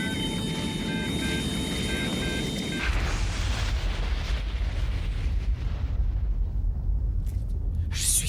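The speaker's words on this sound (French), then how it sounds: "c'était une explosion" A deep, rumbling helicopter explosion roars and keeps booming for several seconds, loud and close, fading into a distant crackle.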